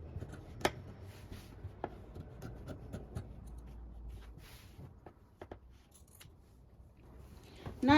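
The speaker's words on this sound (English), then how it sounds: "Let's cut this open. And let me cut this away." Scissors cut through fabric for a peplum jacket in scattered close snips and rustling, with quiet handling noises between cuts and no speech.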